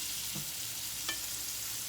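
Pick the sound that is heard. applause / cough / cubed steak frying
cubed steak frying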